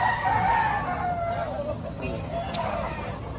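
A rooster crows at the Lipa market, a drawn-out call over a busy background with faint talking nearby.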